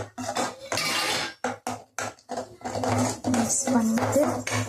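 A spoon stirs and scrapes spiced sundal in a metal pan, giving repeated close clinks and scraping in short bursts with pauses between them.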